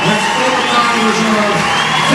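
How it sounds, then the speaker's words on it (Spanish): A large crowd cheers and whoops loudly and steadily at an honouring ceremony, a continuous roar of voices with no pause. "Un aplauso, por favor."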